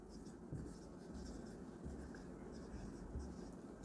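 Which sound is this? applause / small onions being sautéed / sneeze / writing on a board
writing on a board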